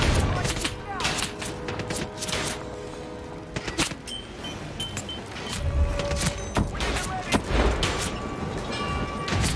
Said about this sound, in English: Who's still shooting at me?